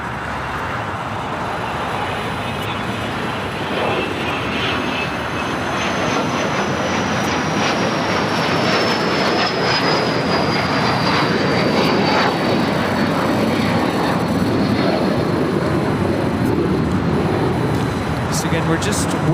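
A commercial freight aircraft arriving at LAX roars steadily and loudly as it comes in to land, a long continuous engine drone with a slowly shifting whine, while people talk underneath.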